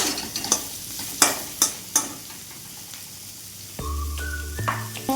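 Chopped onions hit a hot frying pan for ghugni, giving a steady close sizzle with sharp spoon clicks and scrapes early on, then a brief tonal whine over the frying near the end.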